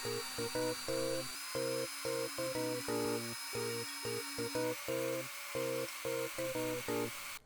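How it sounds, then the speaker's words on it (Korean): A rotary tool carves grooves into a clay Zelda-style treasure chest. Its high whine comes in repeated short bursts, starting and stopping in an uneven rhythm, close and clear with no voices. "로타리 툴을 꺼내서 눈치 살살 봐가면서 홈을 파줄게요"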